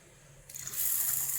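Finger millet and dal are rinsed in water for a dosa batter, starting with a faint background hum, then a sudden steady rush of running water that pours on loud and close.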